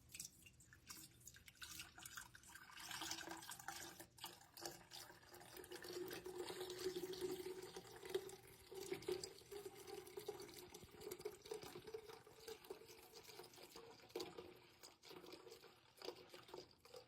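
Homemade caramel macchiato coffee creamer, still slightly warm, poured steadily into a jar, a continuous liquid trickle and splash lasting many seconds, close and fairly quiet.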